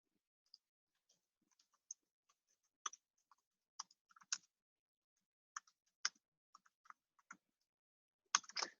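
Faint, sparse typing on a computer keyboard during a coding class, with irregular isolated key clicks and short bursts spread across quiet gaps, no speech.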